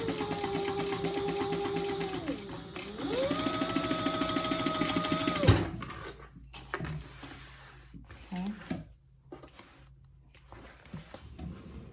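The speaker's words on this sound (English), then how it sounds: "Back stitch really good at those ending and starting points." A sewing machine runs steadily up close while stitching a bag, with a rising and falling motor pitch as it reverses to back stitch. The run stops abruptly partway through, and faint handling noises follow.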